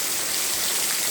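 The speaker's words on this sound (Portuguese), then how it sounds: "Tomando banho de chuva na rua." Rain pours steadily onto a street, a dense, even hiss of falling water filling the whole short moment, loud and close with no voices.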